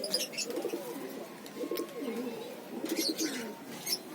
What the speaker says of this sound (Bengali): মেলটা ফিমেলটা কিচকিচ কিচকিচ করে একটা সাউন্ড দেয়